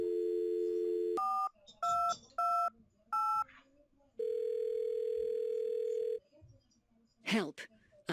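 A payphone in the Thimbleweed Park adventure game gives a steady dial tone, then a run of short two-tone dialing beeps, a second long tone, and a brief burst of sound at the end, clear and close with no voices.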